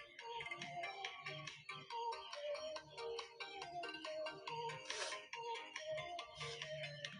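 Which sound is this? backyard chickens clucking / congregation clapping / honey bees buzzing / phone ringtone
phone ringtone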